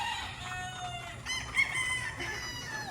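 Brood cock roosters cluck and crow close by in a brief burst of overlapping calls, one crow rising above the steady clucking.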